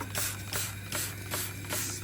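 Wine spritzed from a spray bottle onto Jamaican black cakes as they bake, giving several short, airy hissing bursts spaced roughly every half second over a steady low hum.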